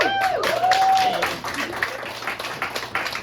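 Audience at a stand-up comedy show, Fresh Hot Babes, applauding a comedian, a brief burst of clapping and cheering that fades under a voice speaking.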